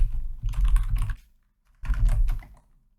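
Two short bursts of rapid keystrokes on a computer keyboard, close and clear, separated by a brief silence.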